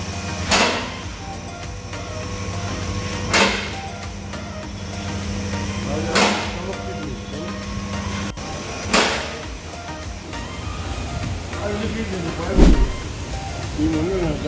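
A vehicle with a loose gearbox nut, running with a steady low drone and repeated sharp knocks or clunks roughly every three seconds, close by and fairly loud.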